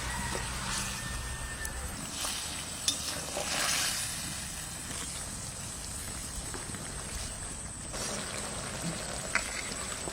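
Pieces of a large Sundarbans fish go into boiling water in a pot, giving a steady hissing, bubbling sizzle with a few soft knocks throughout.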